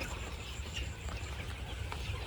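Sonali hybrid chickens cluck and murmur at a poultry farm, a dense, faint flock chatter with low rumbling background noise throughout.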